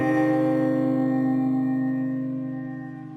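Piano chord struck once, the left hand pressing fifth and third fingers together while the right thumb adds a note; sustained harmonic tone rings near and clear, slowly fading over three seconds with no talking.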